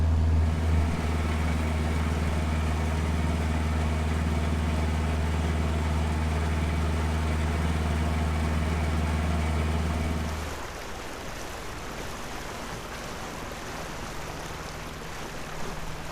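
A narrowboat's 42-horsepower engine pushes upstream against the River Severn current, a steady close diesel drone with a strong low hum that drops noticeably in level near the end. No talk.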